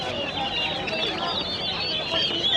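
Chickens cluck and chatter at Tongi market, a busy rural poultry market, in a steady, dense background of overlapping bird calls, with faint voices mixed in.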